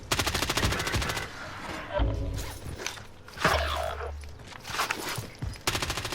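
Gunfire in a shooter video game, heard as rapid automatic bursts at the start and the end of the clip, with single heavier shots and thumps in between. The shots are loud and close.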